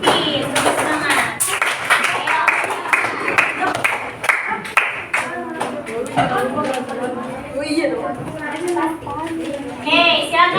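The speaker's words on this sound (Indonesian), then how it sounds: "Beri tepuk tangan untuk Peace." A classroom of students claps for a student group, with brisk, scattered hand claps near the start. Children's chatter and voices carry on underneath and continue as the clapping thins out.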